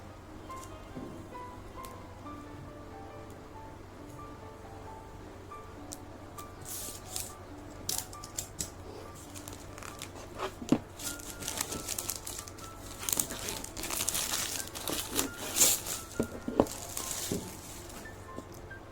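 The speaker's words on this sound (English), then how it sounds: "Let's cut open the cling wrap very slowly." Plastic cling wrap on a Realme XT phone box is slowly cut and peeled open, giving faint crinkles at first and then louder irregular scratchy rustling and crackling bursts toward the end, close by, with no talking.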